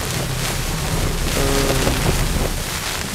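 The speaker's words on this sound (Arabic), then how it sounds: "بيطلع هواء قوي في ثلج برا." Strong wind with snow outside a mountain tent during an Aconcagua climb, a dense, steady roar of gusting air that fills the whole clip with no letup.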